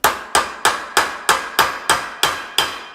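A hammer taps a bearing cap onto its stub on a worn-out Ford F-250 truck, ten sharp, evenly spaced metallic strikes, close and loud, each with a short ringing decay and no talking.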